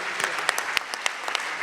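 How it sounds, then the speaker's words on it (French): Short burst of audience applause for a theatre's technical team, scattered claps with a few sharp louder hits, moderately close, no voices. "un tonnerre d'applaudissements pour l'équipe technique là-haut"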